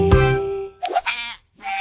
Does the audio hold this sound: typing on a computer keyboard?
no